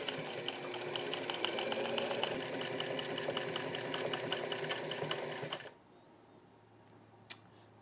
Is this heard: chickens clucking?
no